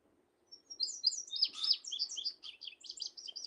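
Indigo bunting singing a lively, high-pitched phrase of paired and repeated chirps that runs about three seconds, clear and close over a faint low background hum.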